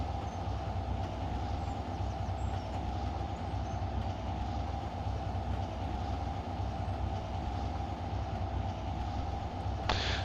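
Steady, continuous locomotive drone from inside the cab in the Trainz 19 railway simulator, a deep engine rumble with a constant tone running evenly and loudly throughout, with a brief brighter burst at the very end.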